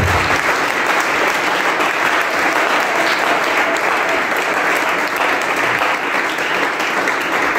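A church congregation applauds in honour of the Lord, steady dense clapping filling the whole stretch at close range, loud and continuous with no voices standing out.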